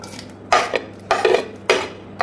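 Chopped medium onions tipped into hot oil in a pan, heard as three sharp clattering bursts of utensil scraping against metal, close and fairly loud, with quiet pauses between and no talking.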